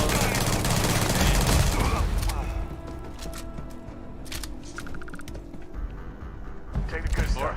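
Rapid bursts of gunfire from combat in the space game Starfield, loud and dense at first and then thinning into scattered shots over a busy game soundscape, with a voice talking underneath.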